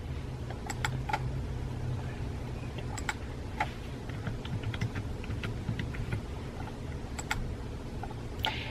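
Quick, irregular clicking of keystrokes on a computer keyboard while a password is changed, the taps coming in short bursts over a steady low room hum, with no talking.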